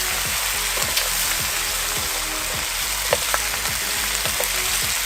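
Pork pochero with pork and beans simmering and being stirred in a pot, giving a steady close sizzle and bubble with a few faint clinks of the spoon throughout.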